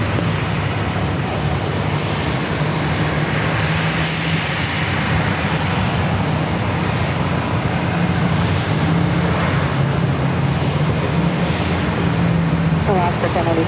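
A plane takes off from runway 27 at San Diego airport, producing a loud, steady engine roar that holds constant and near for the whole stretch.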